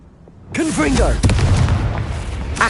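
Hogwarts Legacy's Confringo fire-blast spell goes off as a loud, sustained blast with crackling burst texture that holds for about two seconds, mixed with a voice and a sharp extra pop near the end.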